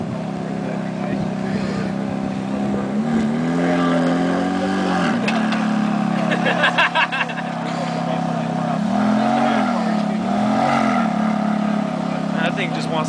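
A Ferrari F430 engine at a Cars and Coffee meet in San Antonio, loud and close, with a sustained rumble that rises and falls in several rev swells while people talk nearby.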